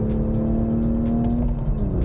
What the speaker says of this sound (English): Oh yes, that straight six makes a great noise.